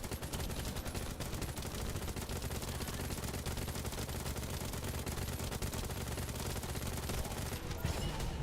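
Sustained rapid gunfire from a gun in The First Descendant, a dense, steady stream of shots filling the whole stretch at high level, with no pause and a slight shift near the end.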